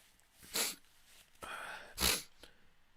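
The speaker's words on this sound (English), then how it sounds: "Oh my god, I need to sneeze." A person sneezes twice, two sharp, close bursts about a second and a half apart, with soft breathy sounds between and no talk.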